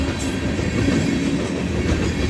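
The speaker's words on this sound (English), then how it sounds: "Train 313 continues to roll south out of Aldersyde, Alberta." A Canadian Pacific freight train, number 313, rolling south out of Aldersyde, Alberta, heard as a loud, steady roar of wheels on rail with a continuous rumble and no speech.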